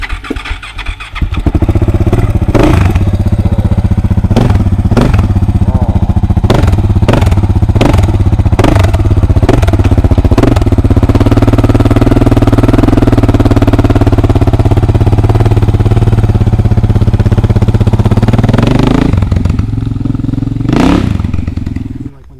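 A KTM 690 motorcycle engine starts and idles close by, a loud continuous thumping single-cylinder rumble with a series of sharp clattering revs and blips, then settling before cutting off.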